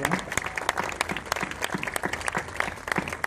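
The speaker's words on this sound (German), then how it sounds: "Vielleicht einen kleinen Applaus." A small crowd at a Volkswagen GTI car presentation gives a short round of applause, with distinct individual claps that are fairly close and uneven, and voices murmur underneath.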